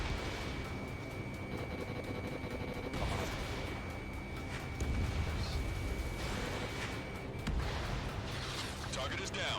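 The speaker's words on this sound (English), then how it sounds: "Strider 1, missile away." Dense combat roar from the Ace Combat 7 flight game, with a missile launch and explosions bursting over continuous jet engine noise and rumbling gunfire, loud and sustained throughout.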